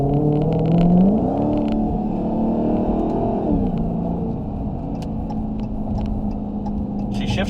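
A 2020 Dodge Challenger Hellcat Widebody heard from inside as it accelerates in manual mode, its loud engine rumble rising and dropping through a couple of gear changes, with faint speech in the cabin.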